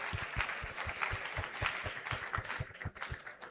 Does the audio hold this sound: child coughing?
no